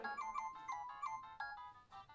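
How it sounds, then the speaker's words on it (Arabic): A mobile phone ringtone chirps in a repeating melodic pattern, fairly faint and alone, with short bursts of tones recurring several times. "لمين هذا الموبايل اللي عم يرن؟"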